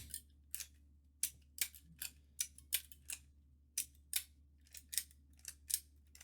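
The hammer of an 1851 Navy revolver kit being worked, giving crisp, close metallic clicks in irregular quick clusters over a low steady hum.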